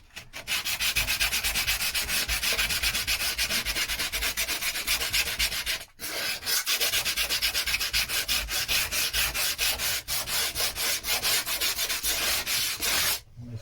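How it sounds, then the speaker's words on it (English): Rapid back-and-forth hand sanding of filler, a rhythmic scratchy rasp of paper on a surface, close and steady with one brief pause midway. "So lots of sanding to do."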